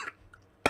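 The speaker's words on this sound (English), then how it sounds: "That was an intentional cough." A single sharp, close cough at the end, after a fainter short cough near the start, with quiet in between; a voice performing a deliberate cough for an RPG Maker game character.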